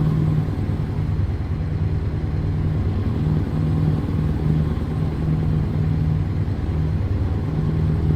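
A Scania truck engine in Euro Truck Simulator 2 drones steadily, a deep low rumble with a humming tone holding for the whole stretch at constant loudness, no voices over it.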